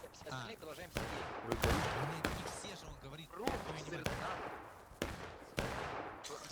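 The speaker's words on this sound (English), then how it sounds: "they're putting in some heavy fire" Heavy musket fire in War of Rights on the Pry House map: repeated sharp gunshot cracks, single and in ragged volleys, spread through a busy battlefield din with faint voices underneath.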